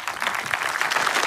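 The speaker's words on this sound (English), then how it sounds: "Okay, thank you so much, and please an applause." A brief patter of audience applause after a keynote panel at a conference in Tartu, Estonia, with loose, moderately loud clapping lasting only a moment.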